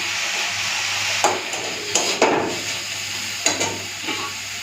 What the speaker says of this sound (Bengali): আর ঢাকা দেবো না এইরকমই নেড়ে নেড়ে ফেলে দেবো